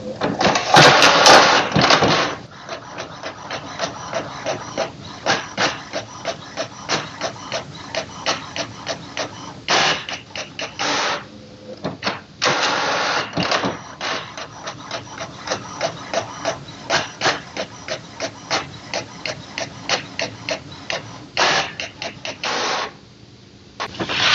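An HP Smart Tank 670 inkjet printer runs through a two-page legal-size job, its print head shuttling back and forth in rapid rhythmic passes with brief pauses as pages feed.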